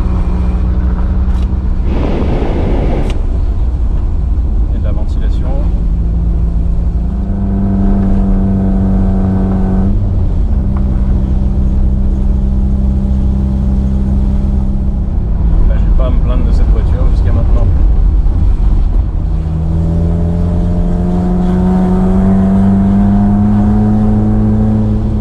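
A cheap old used car drives along with a loud exhaust, its engine droning and rising in pitch as it accelerates through the gears, steady and close throughout.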